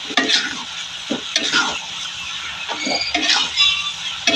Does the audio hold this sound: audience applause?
no